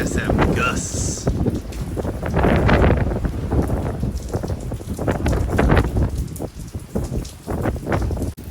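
Wind gusts and rain from Hurricane Francine roar steadily throughout, with loud broadband buffeting and bursts of wind hitting the microphone, while a voice talks faintly in the background.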